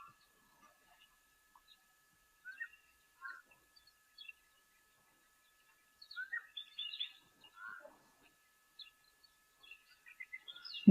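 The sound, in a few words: black-headed oriole calling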